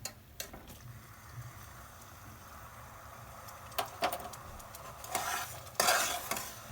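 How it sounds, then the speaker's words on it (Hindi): A spoon scrapes and swirls through jaggery melting in water in a pan, with soft stirring strokes, light sizzling and a few sharper clinks of utensil against metal toward the end. "एकरा चलबैत रहबे गुड़ का, जे पिघल जाए गुड़ बढ़िया से पानी में"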